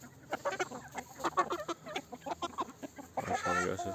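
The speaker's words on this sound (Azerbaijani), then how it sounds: "görürsünüz xoruzlarımıza baxın" Roosters and hens on a small farm cluck in quick, uneven bursts close by, with several birds calling over one another, then a louder, drawn-out call at the end.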